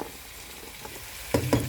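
Capsicum frying with pork in a pan, a soft continuous sizzle that jumps louder with a couple of sharp bursts as the pieces hit the hot oil.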